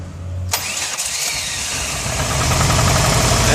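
A VW Golf MK2 fitted with tuned Weber sidedraft carburetors cranks briefly, catches and settles into a loud, close, rough idle that swells slightly, with no talk over it.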